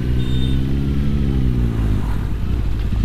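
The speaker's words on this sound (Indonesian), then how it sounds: "Ini suara knalpotnya tebel banget." Deep, steady rumble of a Honda CB1100F motorcycle running its stock exhaust on a ride to Pandawa, a thick low engine drone that is loud and close throughout with no talk over it.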